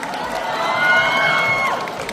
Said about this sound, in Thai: ปรบมือให้หน่อยได้ไหมครับ